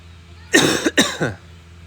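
A couple of sharp, throaty coughs close up, two quick bursts about half a second apart, in an otherwise quiet room.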